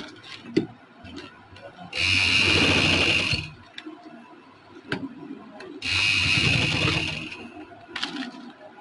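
A sewing machine stitches trouser fabric in two sustained bursts of rapid whirring, close and fairly loud, separated by quiet pauses with small clicks and handling noises; a person talks faintly between the runs.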